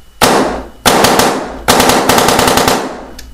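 A JT Impulse paintball marker with its stock barrel dry fires in three loud bursts of rapid cracking shots. Each burst starts abruptly and is close and harsh, with short gaps between bursts.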